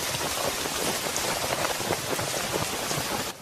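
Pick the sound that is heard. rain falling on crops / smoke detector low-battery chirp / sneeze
rain falling on crops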